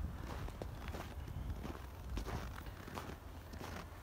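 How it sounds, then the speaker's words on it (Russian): Footsteps crunch on snow along a riverside alley by the Velikaya River near the Mirozhsky Monastery in foggy Pskov, a steady walking rhythm of close, soft crunches with no talking. "Слышите, снежок хрустит."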